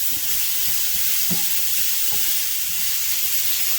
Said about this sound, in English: with your garlic, you only want to cook until fragrant